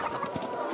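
Laying hens on a poultry farm clucking in a steady, dense flock chatter, several birds close together over a short stretch.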